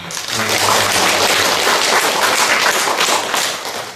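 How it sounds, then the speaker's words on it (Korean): A Korean church congregation bursts into sustained applause during a Sunday worship service, many hands clapping together in a dense, steady roar that fills the hall for several seconds. "우리 하나님께 감사의 박수 한번 올립시다"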